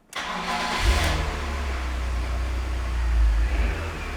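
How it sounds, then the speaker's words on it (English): A BMW E46 330i fitted with an aggressive camshaft cranks and catches, then settles into a loud, steady, lumpy idle with a deep low rumble and a brief swell near the end. "The idle is probably gonna be very lumpy, because this cam is very aggressive."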